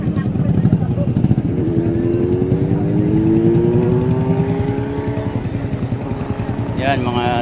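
Yamaha Sniper 155 motorcycle engine running loud and close, its pitch climbing steadily through a rev before easing off near the end.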